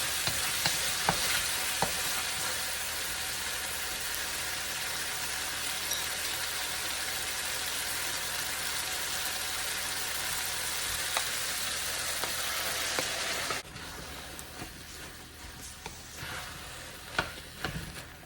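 Eggplant sizzles and fries in a hot pan for a Filipino Ilocano poke-poke dish with tomatoes, a loud steady crackle that drops to a quieter simmer near the end, with occasional stirring clinks.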